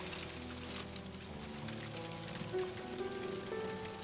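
Rain falls steadily in a virtual reality game world, a soft constant patter at low level with faint tonal ambience beneath.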